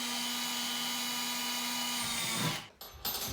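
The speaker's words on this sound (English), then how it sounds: "So the first thing I'm gonna do is I'm gonna drill a pilot hole" A power drill whirs at a steady high pitch for a couple of seconds, boring a roughly 5/16-inch pilot hole in an acoustic guitar, then winds down and stops with a brief clatter.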